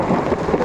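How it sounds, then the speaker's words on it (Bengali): Thunder rumbles low and heavy through steady rain at a graveside burial, a brief dense roar with no voices. "বজ্রপাত হচ্ছে"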